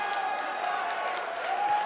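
A virtual arena crowd at Daly's Place during an AEW Fight for the Fallen championship match in WWE 2K keeps up a steady, even roar and murmur of cheering, with no clear peaks or breaks.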